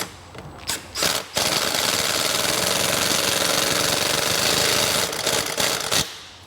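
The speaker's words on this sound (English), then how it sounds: "here's a perfect example of using an impact. Just this is a nylock nut. It will take forever to turn by hand." An impact wrench spins a nylock nut on a Vespa scooter, starting with a few short bursts and then giving a loud, continuous rattling hammer for about four seconds before stopping.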